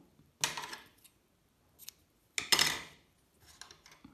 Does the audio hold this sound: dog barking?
no